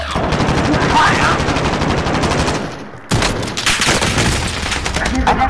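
Rapid automatic gunfire from a shooter video game set on Rebirth Island in Resurgence mode, loud dense bursts of machine-gun fire running almost continuously with a brief drop near the middle before firing resumes.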